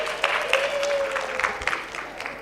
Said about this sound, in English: Let's give Emily a round of applause.